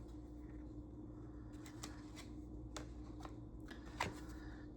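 Ascended Masters oracle cards are shuffled by hand, producing quiet riffling flicks and a few sharp snaps, the loudest near the end, over a soft steady hum in a calm indoor room.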